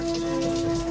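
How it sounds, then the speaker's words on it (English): Loud, steady rain from Hurricane Hilary pouring down close by in Southern California, a constant wash of noise with a faint tonal hum underneath. "Starting to rain hard."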